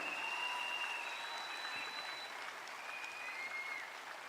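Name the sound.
applause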